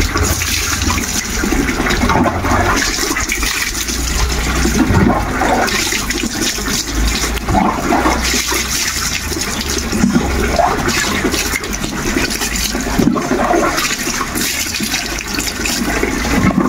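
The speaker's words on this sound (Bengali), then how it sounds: "আধা ঘন্টা মতো শ্যাম্পু মাখিয়ে রেখে দেওয়া হয়েছিল, এবারে স্নান করানো হচ্ছে" Steady, loud running water pours without a break while Gubli, a pet dog, is rinsed after half an hour with shampoo on, a broad continuous wash close by with no voices.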